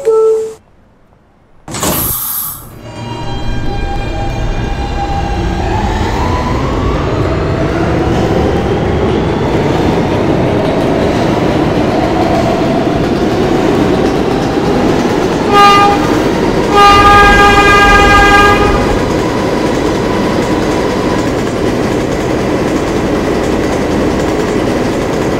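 An R160B subway car on a D train gives a short horn blast, then rolls along with a loud steady rumble and rail noise, its tone rising as it speeds up, with a brief squealing whine midway.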